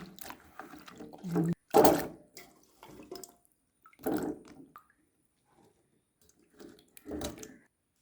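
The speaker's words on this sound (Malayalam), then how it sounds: "സാധാ പച്ചവെള്ളത്തിൽ കഴുകി" Close-up splashing and sloshing of water in short bursts, as if vegetables are swished around in a bowl, with quiet pauses between.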